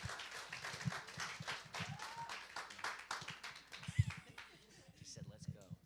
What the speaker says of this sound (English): Can we get one more round of applause? The biggest round of applause.